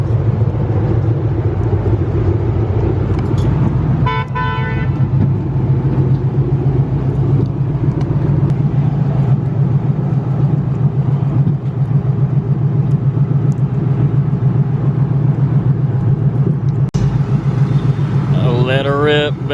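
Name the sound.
1969 Mustang 302 V8 engine revving on a dyno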